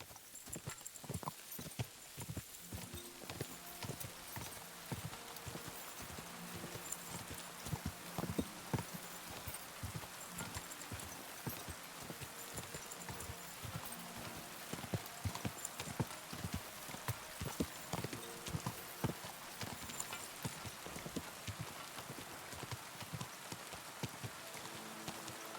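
Horse hooves clip-clop steadily at a riding pace in the medieval game Kingdom Come Deliverance 2, a continuous rhythmic patter of hoofbeats with light rain-like ambience and no talking.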